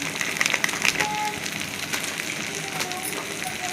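Taro leaf curry frying in gravy with amchur powder, a steady crackling sizzle of oil throughout, moderately loud and close, with faint background noise and no clear speech.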